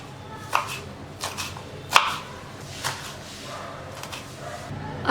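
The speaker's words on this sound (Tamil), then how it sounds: "இப்போ வெந்தயக்கீரையை நல்லா பொடியாக கட் பண்ணிக்கலாம்." Fenugreek leaves are finely chopped with a knife on a board, a series of close, sharp cuts spaced irregularly about once a second over a low background hum.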